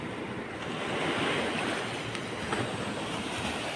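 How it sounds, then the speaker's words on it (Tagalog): Large waves surge and crash at sea, a loud continuous roar of surf and wind buffeting the microphone with no pause. "Tapos malalaki din yung alon, malabo."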